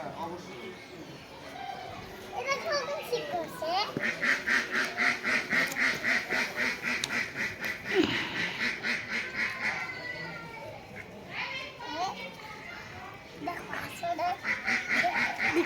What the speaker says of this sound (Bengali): হাঁস খাবার দাও খাবার দাও।